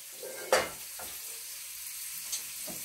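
Food frying in a pan for vegan spicy noodles with tofu, a soft steady sizzle running throughout, broken by a sharp clatter near the start and a lighter knock later, with no talking.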